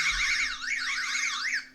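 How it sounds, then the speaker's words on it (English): A wake-up alarm rings with a warbling, rising and falling electronic tone that repeats in waves, fairly loud and alone over a faint low hum. "That's my alarm to get up and get ready to go to work."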